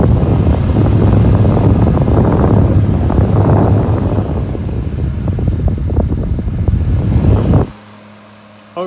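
A turbo fan runs on its medium setting, blowing a loud, steady rush of air close by for several seconds before it cuts off abruptly, leaving only faint room noise.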